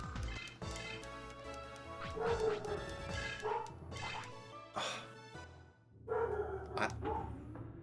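A dog barking repeatedly somewhere nearby, a run of loud bow-wow barks in irregular bursts, with some whimpering yips mixed in.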